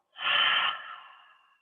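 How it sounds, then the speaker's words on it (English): One slow, deep breath during a yoga session, drawn in through the nose and let out through the mouth; a single close, soft airy rush that fades gently away. "take a deep breath in through your nose. Fill up. Open the mouth. Exhale."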